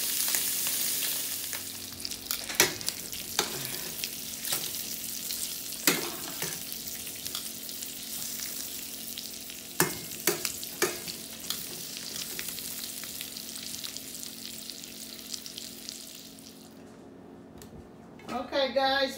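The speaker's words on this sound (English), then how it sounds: "And just let them brown. We're going to cook these sausages up." Sausages brown in a pot for gumbo with a continuous soft sizzle and frying crackle, broken by several sharp clinks and scrapes of a utensil stirring against the pot.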